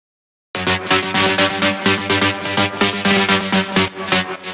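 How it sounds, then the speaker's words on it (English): Loud, bright metallic FM synth stabs from a melodic techno track repeat in a steady rhythmic pattern after a moment of silence, with no speech. "It's that like metallic FM stab that you hear in so many melodic techno tracks now."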